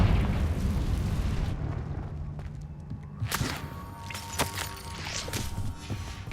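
A single fiery Confringo blast erupts in Hogwarts Legacy, a sharp burst followed by scattered crackling pops over a quiet background.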